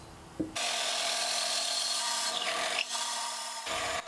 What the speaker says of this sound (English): here's the plug cutter. I'm gonna go ahead and cut some face grain plugs